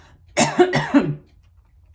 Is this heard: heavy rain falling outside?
no